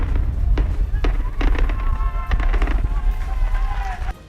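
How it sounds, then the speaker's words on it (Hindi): A gunpowder charge set on the last rock of a 1-kilometre railway tunnel goes off, followed by a series of sharp, echoing cracks and bangs, with people talking and cheering over the blasts. "1 किलोमीटर लंबी सुरंग की आखिरी चट्टान पर बारूद लगाकर उसमें धमाका किया गया"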